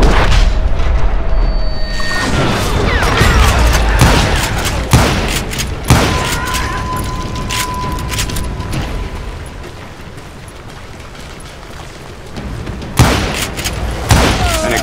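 Gunfire erupts in a Call of Juarez Gunslinger gunfight on a mountain against renegades, with sharp shots and booming reports scattered across the scene, heavy bursts early, a quieter stretch, then fresh loud cracks near the end.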